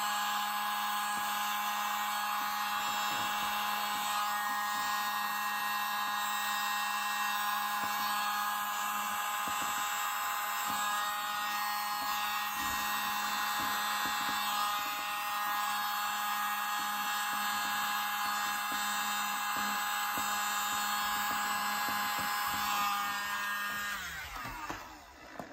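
A small electric air blower runs continuously over wet acrylic Dutch pour paint, a steady loud whirring hum with a constant tone that holds for the whole stretch and cuts off near the end.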